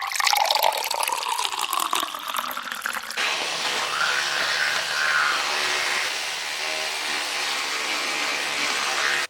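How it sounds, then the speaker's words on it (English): Milk is poured over Special K cereal with raisins in a bowl, a steady liquid splash and gurgle that shifts in tone partway through and continues for several seconds. "I'm obviously going to have some milk on it"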